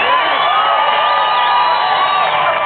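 Crowd of Tea Party supporters outside City Hall in Austin, Texas, cheering and whooping continuously, a dense wash of many voices at close range with no pauses.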